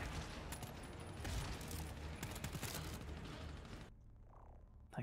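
Gunfire from the co-op shooter GTFO crackles in dense, fairly faint bursts over a busy background, and then drops suddenly into near silence near the end.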